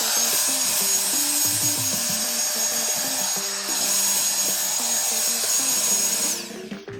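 A Jufinx Turbo Fan cordless electric leaf blower runs continuously with a loud, steady airy roar and faint tonal whine, then cuts off abruptly near the end.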